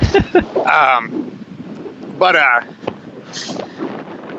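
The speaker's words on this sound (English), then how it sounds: "Sounds like it's fucking super windy there right now." Strong wind buffets the microphone in low rumbling gusts while a person talks intermittently over it.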